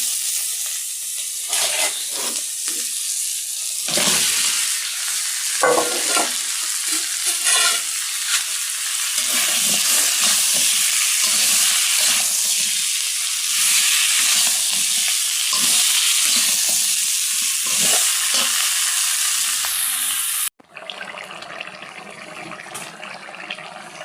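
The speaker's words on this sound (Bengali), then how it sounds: "আমি লাউটা রান্না করছি কাঁচামরিচ দিয়ে" Bottle gourd with green chillies cooking in a pan, a steady close sizzle with scraping stirs running throughout, then cutting off to a quieter, duller simmer near the end.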